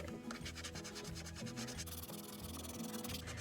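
A scratch-off lottery ticket being scraped with steady back-and-forth rubbing strokes, close and continuous, with no one talking.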